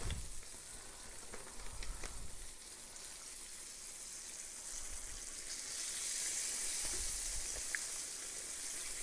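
A big chicken thigh fries in a skillet with a soft, steady sizzle and crackle at low level, close by, with no talking over it.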